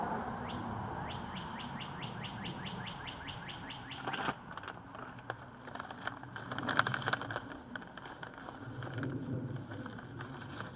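Outdoor birds chirp in quick repeated runs of bright calls, then scattered tweets continue over low ambient rumble and faint background noise.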